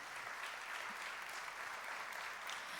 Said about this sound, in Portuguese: vamos aplaudir as mulheres